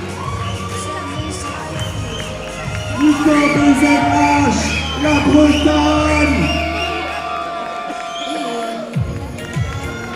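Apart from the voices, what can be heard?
audience applauding and cheering for a bodybuilding contestant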